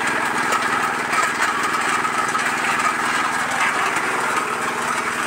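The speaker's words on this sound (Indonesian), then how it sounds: "Ukuran 8 PK mesinnya diesel." An areca nut cracking machine driven by an 8 HP diesel engine runs steadily, its loud, dense mechanical drone and rapid rattle continuing unbroken throughout with no voices.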